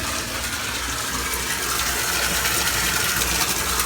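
Water gushes steadily into a tank during an automatic aquarium water change, fed through PEX plumbing, heard as a loud, continuous rushing fill that holds from start to finish with no voices over it.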